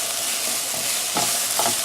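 Beans and corn mixture being stirred into onions frying in a pan for taco samosa stuffing, giving a steady close sizzle with a couple of soft scraping stirs, no talking.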